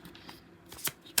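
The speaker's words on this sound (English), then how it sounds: "3 more shuffles and then we'll move on." Tarot cards are shuffled by hand in a brief, soft burst, with a couple of crisp riffling snaps close by in a quiet room.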